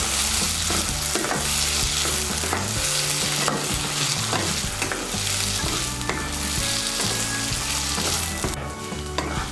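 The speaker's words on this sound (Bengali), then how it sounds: "মিশিয়ে নিয়ে আলুটাকে একটু ভেজে নেব।" Small diced potatoes fry and get stirred in a pan while making Bengali jhal suji with winter vegetables, giving a steady, loud sizzle with repeated scraping and stirring strokes throughout.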